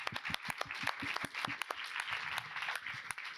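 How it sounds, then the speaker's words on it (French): Conference audience claps for guests, fairly faint and sparse individual claps ringing in a hall, steady for a few seconds. "Un grand tonnerre d'applaudissements pour nos super invités."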